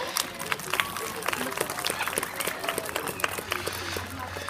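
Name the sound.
audience applause for the birds Wilma and Merlin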